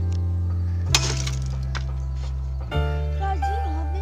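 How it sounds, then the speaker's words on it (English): Glass struck and shattering, with two sharp impact crashes followed by splintering debris, loud and close over a steady low hum and faint background voices. "It just broke all glass."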